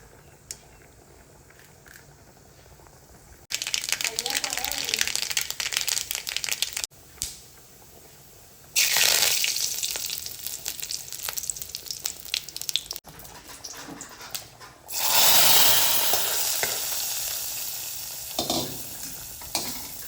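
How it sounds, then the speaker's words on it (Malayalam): Mustard seeds splutter in hot oil for tempering a dried prawn and mango curry, a loud crackling sizzle that starts abruptly, pauses and flares again with sharp pops, without talk. "നമുക്ക് ഒന്ന് വറവിട്ടെടുക്കാം. ആവശ്യത്തിന് കടുകിട്ട്"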